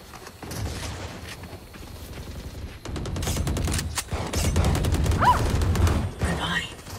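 Gunfire in the tactical shooter Valorant: rapid, dense bursts of shots building from a quieter start into sustained loud firing, with players talking over the action.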